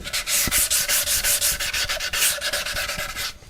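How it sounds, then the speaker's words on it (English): Light hand sanding along the freshly routed edges of wooden cutting boards, a steady rhythmic rasping of strokes back and forth, close and continuous with no talk. "A little light sand around all the edges that I've just routed"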